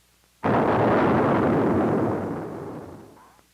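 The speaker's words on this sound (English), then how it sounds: "On April 14th, the second MB-1 missile was fired from the test rig." An MB-1 missile fires from an F-102 test rig with a sudden loud blast that starts alone and then rumbles on, fading slowly over about three seconds.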